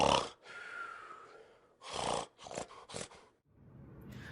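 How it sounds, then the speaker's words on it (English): A giant snores loudly and deeply, a series of long, rasping breaths with snorting intakes separated by short pauses, close and alone. "He was snoring loudly and deeply."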